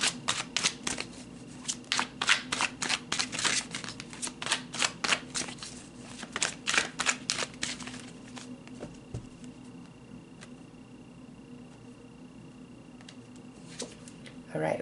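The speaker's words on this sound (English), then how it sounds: "So I'm gonna actually pull a couple of cards about this person." Tarot cards shuffled by hand, a dense run of crisp riffling and patting bursts for about eight seconds before the handling fades to occasional soft taps over a faint steady room hum.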